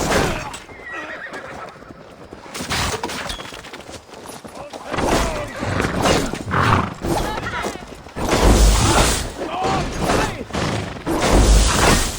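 Horses neigh and whinny amid galloping hooves, crashes and a loud battle din during a siege of Paris in a video game, recurring in heavy surges, with voices heard at times.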